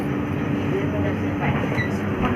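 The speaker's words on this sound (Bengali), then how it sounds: "ট্রেন এখানে দাঁড়িয়েছে, এই জাস্ট ছাড়লো সবে, চলে যাবো" A train pulls out of Cuttack station with a continuous low rumble and rolling wagon noise that stays steady and close throughout.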